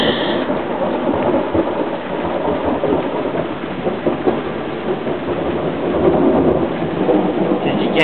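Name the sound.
thunderstorm with rain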